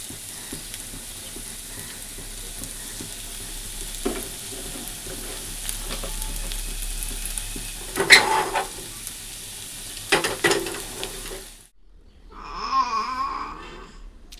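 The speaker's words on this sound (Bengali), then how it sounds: "এই যে ফোড়নের জন্য শুকনো লঙ্কা, তেজপাতা আর কালো জিরা, এই দিয়ে ফোড়ন দিয়ে একেবারে ডাল বসিয়ে দেবো" Dry chillies, bay leaf and black cumin crackle in hot oil as a tempering for dal, a continuous close sizzle with louder bursts of stirring, then a brief lull before a softer sputter at the end.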